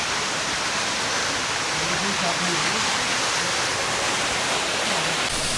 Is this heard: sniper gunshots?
no